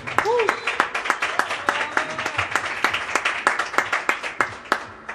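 Audience applause at a jazz concert, a dense burst of clapping with sharp individual claps standing out. A voice speaks briefly over the start, and a few higher tones sound near the beginning.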